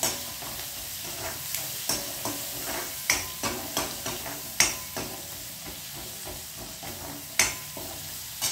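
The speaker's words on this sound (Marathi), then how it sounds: "कांदा छान असा गुलाबी होईपर्यंत परतवून घेऊया." Onions with turmeric being sautéed in a pan: a steady close sizzle with repeated sharp scrapes and taps of the spatula at an uneven rhythm, with no voices.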